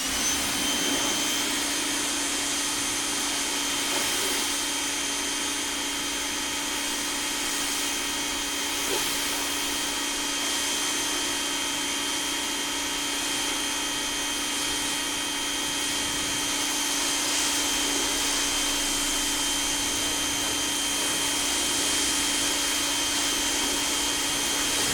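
An Active 2.0 120V electric pressure washer runs continuously while rinsing, giving a steady loud motor-and-pump whine with a rushing hiss of spraying water, unbroken and close, with no talking.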